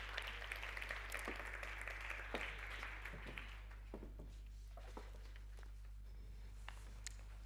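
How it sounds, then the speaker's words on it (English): An audience at a lecture honouring Charlotte Maxeke claps after an introduction, a faint, distant patter of applause that thins out over several seconds above a low steady hum. "Let's please give her a warm round of applause."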